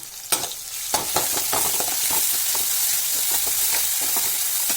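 Chopped onion and garlic paste hit hot oil in a pan with a few sharp clatters, then settle into a loud, continuous close sizzle with faint stirring taps.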